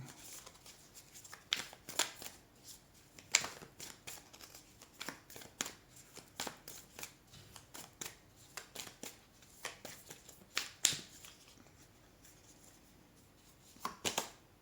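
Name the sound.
shuffling and drawing oracle cards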